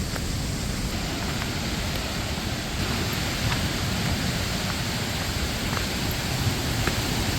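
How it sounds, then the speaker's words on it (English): El Charro waterfall on the Costa Rican coast pours straight into the ocean, a constant loud wash of falling water and surf with no pauses or voices. "El Charro waterfall. One of two that goes into the ocean in Costa Rica."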